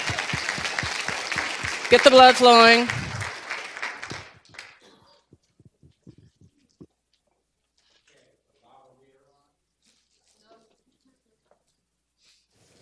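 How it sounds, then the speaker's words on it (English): Audience applause in a lecture hall, a burst of clapping that rises under a voice and fades out after a few seconds, leaving near silence with a few faint knocks. "Let's clap"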